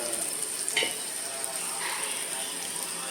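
Spices and salt frying lightly in a pan while koda milagai thokku is cooked: a faint, steady sizzle with a few soft scraping clicks of stirring, close and quiet.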